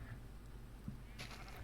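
Faint bleating from sheep spawned from eggs in Minecraft, a short quiet bleat over low background hum.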